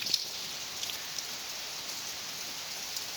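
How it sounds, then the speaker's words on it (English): Big raindrops fall steadily in a continuous soft patter, with a few sharper nearby drips standing out. The hiss stays even throughout and no one speaks. "There's big old drops of rain."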